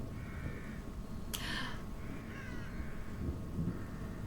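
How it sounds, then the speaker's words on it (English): Crows caw repeatedly in a wooded area of a video game, several harsh calls spaced out over a quiet steady ambient background with no voices. "Oh, they're just birds."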